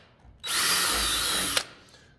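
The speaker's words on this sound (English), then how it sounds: "Now we've drilled those, we're gonna sand those." A power drill boring a hole through a wooden pencil box, one short whining burst of about a second with a sharp click as it breaks through, then quiet.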